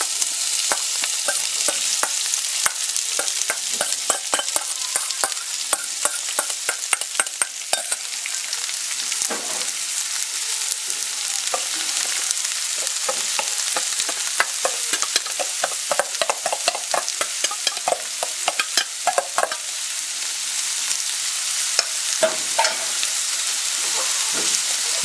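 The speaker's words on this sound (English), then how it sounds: "But as you can see, it's already sizzling" Shakshuka ingredients sizzle and crackle loudly in a hot frying pan, with a dense, continuous hiss broken by frequent sharp pops and stirring scrapes, heard close up with no talk.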